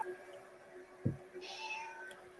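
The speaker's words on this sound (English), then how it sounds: "Who's down here meowing at me." A cat meows once, a short close call standing out over a quiet indoor background hum, followed by faint rustling.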